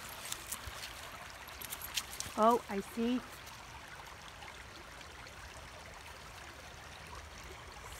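Fast-flowing stream water after heavy rain makes a faint, steady rushing wash throughout, with a person speaking briefly in the middle over it.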